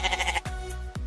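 Wild goats with large horns bleat on Rhodes, Greece: a quavering, wavering bleat followed by two short abrupt calls, close and clear with no voices.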